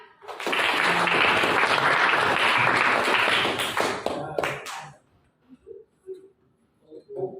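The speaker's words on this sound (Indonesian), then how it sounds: "Tepuk tangan." Rapid hand clapping by a group fills about four seconds, then stops abruptly, followed by a few soft scattered sounds.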